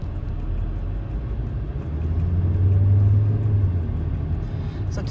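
Steady low rumble of a car cruising through Dubai on a hot summer day, engine and road noise swelling slightly midway with no one talking.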